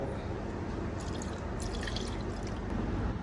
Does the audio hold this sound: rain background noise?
no